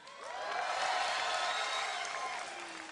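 BlizzCon 2010 audience cheering and clapping at a StarCraft II grand finals, a broad sustained crowd roar swelling and fading over a few seconds.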